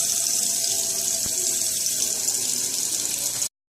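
Running water pours into a container in a steady, close hiss and splash that lasts about three and a half seconds before cutting off abruptly, with no talking.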